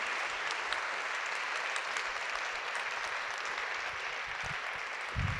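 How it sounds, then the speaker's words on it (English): Faint, steady applause from a lecture audience rises after a Hall of Fame talk, an even wash of clapping heard from a distance with no voices over it. "Please give us a round of applause."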